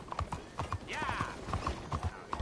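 Hooves clip-clop in a quick galloping rhythm from a horse in Red Dead Redemption 2, with a neigh rising in the middle and voice briefly over it.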